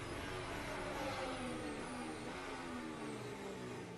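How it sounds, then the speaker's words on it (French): Onboard a Formula 1 car at night practice in Bahrain, a 2022 ground-effect car whose flat floor scrapes and bangs against the track, heard within a loud, steady roar of engine and wind noise throughout. "Voici la caméra de Lando Norris et vous entendez le fond plat qui tape."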